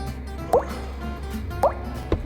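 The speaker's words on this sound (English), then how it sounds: "Roof's still leaking. Through the speaker up above me." Water leaks through a roof and a ceiling speaker and falls in three separate close plops about half a second to a second apart, over a quiet indoor background hum.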